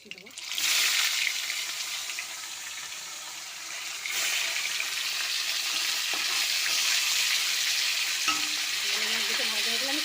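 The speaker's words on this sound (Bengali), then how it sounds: "আর দুটো আছে, দুটো ভাজা বসিয়ে দেবো।" Bhola fish fries in mustard oil in a pan, a loud steady sizzle and crackle that swells when the pieces go in, with faint clinks of a utensil near the end.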